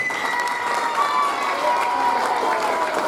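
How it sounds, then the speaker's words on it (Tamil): Audience applauding at a South India level karate competition prize ceremony; a dense, continuous wash of hand clapping with some cheering, fairly close and steady across the whole stretch. "நம்ம பாராட்டு தெரிவிச்சுக்கணும் அவங்க ஒரு கைத்தட்டு பண்ணுங்க"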